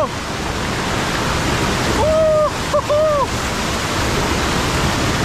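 Strong rushing water under heavy pressure, likely a river or stream at Sittong, roars loud and steady throughout, with a brief whistle-like voice or bird call cutting in near the middle.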